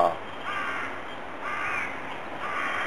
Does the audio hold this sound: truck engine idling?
no